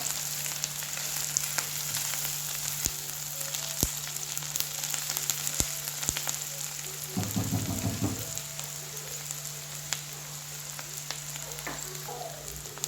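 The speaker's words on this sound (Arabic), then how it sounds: "نخلو البصل يتقلى مليح" Onions sizzling steadily in a pan for a shakshuka-style dish, a continuous frying hiss with occasional clicks and a brief burst of stirring midway, no talking.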